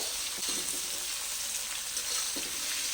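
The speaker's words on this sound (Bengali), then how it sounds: "এবার আমি ক্যাপসিকামগুলোকে দিয়ে দিচ্ছি। এগুলোকে খুব একদম বেশি ভাজার দরকার নয়" Capsicum for vegetarian fried rice frying in a pan gives a steady close sizzle and hiss, with a couple of soft stirring scrapes and no talking.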